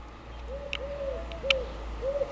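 Starlings around a garden bird house, with a repeated soft rising and falling call heard four times over a low background hum, plus a couple of brief sharper chirps nearby.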